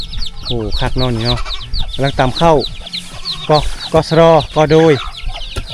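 Chickens cluck around a remote mountain village without electricity near the border, the fowl noises mingling with someone talking loudly close by throughout.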